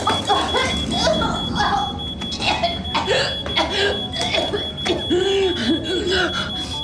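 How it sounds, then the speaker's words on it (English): A smoke detector alarm sounds in a children's fire safety cartoon, a steady high-pitched tone running beneath animated voices talking over it. "Sounds like a smoke detector."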